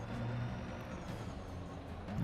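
SRV ground vehicle in the game Elite Dangerous, a low steady mechanical rumble and hum with a faint hiss, sustained throughout and slightly louder at the end.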